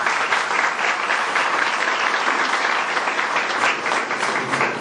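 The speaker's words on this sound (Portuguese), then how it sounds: "Eu queria uma salva de palmas para ele, por favor." Sustained audience applause fills a cultural conference opening in Mesquita, a dense, steady wash of many hands clapping at even loudness throughout, with no voices over it.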